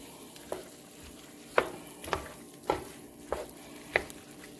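A spoon stirs pelau ingredients in a hot pot, producing five or six rhythmic scraping strokes against the pot over a steady background sizzle, close and moderately loud.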